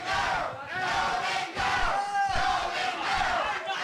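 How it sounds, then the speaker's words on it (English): A loud professional wrestling crowd at an All Pro Championship Wrestling show jeers and yells at the wrestler The Golden Boy, with dense, sustained shouting and booing throughout. "this crowd is getting on the case of the Golden Boy"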